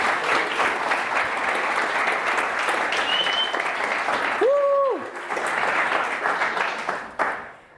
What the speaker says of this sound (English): So give an applause for Andrea, por favor.